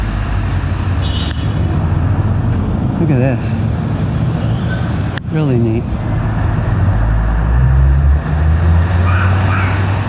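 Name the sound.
cars passing on narrow streets near Tocumen airport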